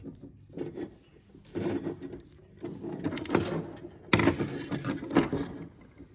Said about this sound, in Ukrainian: Беремо твердку, розкручуємо, викручуємо цього болтика.